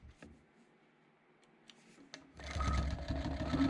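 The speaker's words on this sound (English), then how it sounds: "You can hear what the needle does with the satin." Longarm quilting machine stitching through satin on a quilt top with fullness: soft ticking needle taps at first, then a louder, dense continuous mechanical whir of stitching close by, with no talk.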